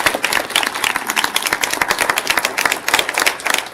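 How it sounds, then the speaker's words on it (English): An audience claps steadily for a school district speaker at a city task force meeting, a dense, continuous round of applause with no voices over it. "Garcia a round of applause."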